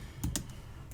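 Keystrokes on a computer keyboard while entering a database query, a few quick separate clicks close by with no talking.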